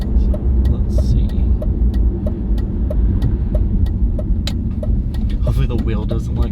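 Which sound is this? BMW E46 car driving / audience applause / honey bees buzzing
BMW E46 car driving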